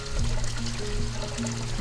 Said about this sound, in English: emptying the water that's in this bucket into the tank over here